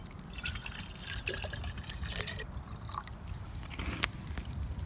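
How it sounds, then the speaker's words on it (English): Water trickling and dripping as it is poured into a pot at a campfire in wet woodland conditions, a soft, steady liquid pour with faint drips over low outdoor rumble, no voices. "Put some more water in there."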